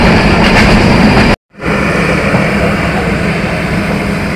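The Banalata Express passenger train runs with a loud, continuous rumble and roar of wheels and carriage noise, briefly cut to silence for a moment before the same steady clatter resumes.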